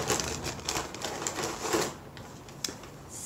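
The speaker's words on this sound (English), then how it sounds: "We'll just tear right through this." Packaging torn open by hand during an unboxing, a run of close, crackly ripping and rustling bursts that come in quick uneven pulses, loud and close with no talking.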